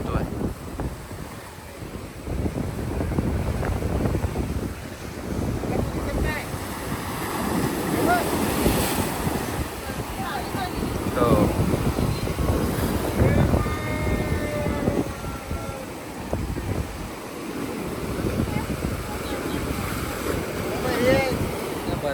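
Waves wash and surge repeatedly under gusty wind at high tide on the sea shore at Harihareshwar, with occasional faint voices in the background.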